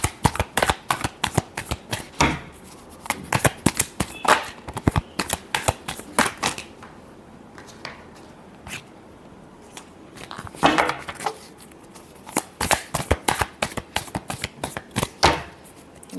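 Tarot cards are shuffled close up in quick riffling bursts, crisp rapid flicks repeating with short pauses over about sixteen seconds, loud and alone.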